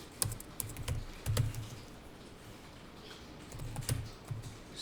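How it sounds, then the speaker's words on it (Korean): An address is typed on a computer keyboard during an accounting software lesson, with quick clusters of close key clicks separated by a short pause, alone and fairly quiet. "그래서 그냥 주소를 타자하는 것으로 해주세요."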